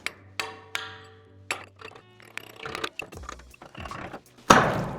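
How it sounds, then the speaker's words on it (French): Small piece of cement being broken on a roof under metal sheeting, with sharp metallic clanks and ringing knocks, scraping and rattling between blows, ending in a loud crunching burst; close and loud, no voices. "il faut qu'on casse ce petit bout de ciment parce que ça fait remonter la tôle"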